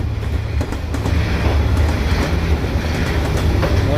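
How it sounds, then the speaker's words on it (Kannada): A passenger train rolls past on Hanoi's train street, a loud, close, continuous rumble with rhythmic clickety-clack of wheels over rail joints throughout. "ಪ್ಯಾಸೆಂಜರ್ ಟ್ರೈನು ಆ್ಯಕ್ಚುಲಿ, ಬಟ್ ಎಲ್ಲ ಫುಲ್ಲು ಖಾಲಿ ಇದೆ."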